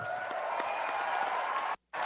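An audience applauding steadily, a dense wash of clapping from a crowd that continues evenly, then cuts out abruptly for a moment before resuming.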